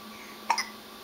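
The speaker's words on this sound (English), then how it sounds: "Should we look at some things to get rid of your hiccups?" A single hiccup, a quick sharp double-pulsed catch of breath, stands out over a quiet, steady background hum.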